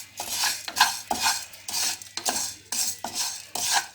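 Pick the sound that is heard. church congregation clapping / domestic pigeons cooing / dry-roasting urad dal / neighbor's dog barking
dry-roasting urad dal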